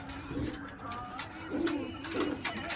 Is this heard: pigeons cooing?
yes